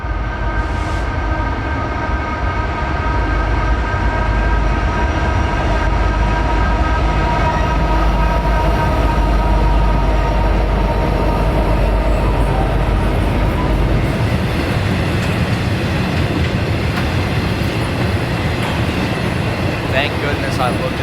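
Norfolk Southern intermodal freight NS 20E, led by heritage unit 1067, passes eastbound in Pennsylvania: a loud, steady rumble and roll of wheels on rail that fills the whole stretch and eases slightly near the end.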